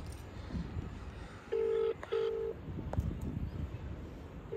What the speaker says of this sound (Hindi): मैंने पापा के पास मिला दिया फोन